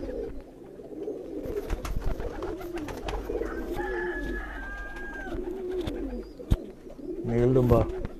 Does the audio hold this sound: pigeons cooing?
yes